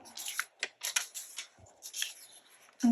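Scissors snipping paper for vintage ledger watercolor swatches, a quick run of crisp, close cuts in irregular bursts with brief gaps, quiet and alone.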